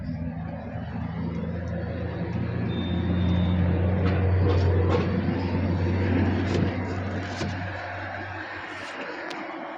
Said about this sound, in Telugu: ఒకసారి అయితే కార్ స్టార్ట్ చేశాను చూడండి